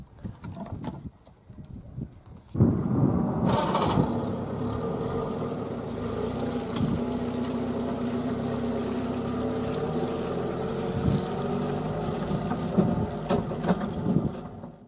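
An old 2002 UAZ with its engine running steadily, a continuous low rumble that starts abruptly and holds at an even, moderately loud level without talk.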